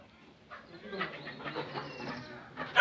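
Chickens of various breeds on a farm cluck and call in an uneven, overlapping chorus at moderate loudness, building after a quiet start and swelling to a louder call at the end.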